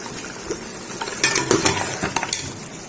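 Meat and potato curry (aloo gosht) frying in a pan with roasted garam masala, a soft sizzle beneath several clinks and scrapes of a metal spoon stirring against the pan, close and fairly loud.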